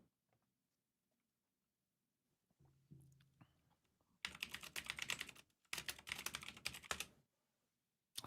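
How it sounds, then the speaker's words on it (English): A very clacky mechanical keyboard typed on in two loud, rapid bursts of sharp clicks and clacks, with quiet pauses and a few softer taps before them. "a mechanical ass keyboard, that. Yes, it is. People always ask if I'm using a typewriter as a keyboard, but no. It's just a very, very clacky one."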